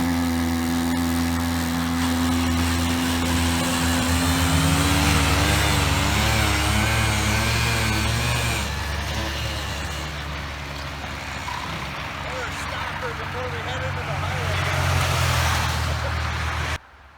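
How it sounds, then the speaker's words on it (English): A Predator 1700 with a 52cc motor strains to pull a heavy trailer, a loud, steady engine drone whose pitch wavers and rises and falls as it labors under load, close by and continuous. "Alright, we tried pulling the trailer. It did struggle a little bit at first, but that's a pretty heavy trailer, and this is only a 52cc motor"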